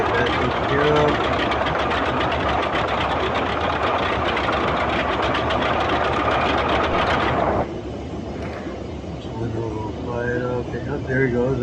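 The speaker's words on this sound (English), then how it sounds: "They'll be winding the flywheel." In MSFS 2020, a ground crew cranks the inertia starter flywheel of a Boeing 247D, producing a loud, steady whirring, rattling drone that cuts off abruptly partway through. Someone talks throughout.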